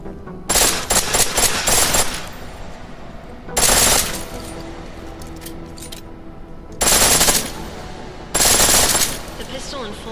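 A pistol set to full auto in Deus Ex: Mankind Divided fires in four loud, close, rapid bursts of about a second each, separated by quieter gaps.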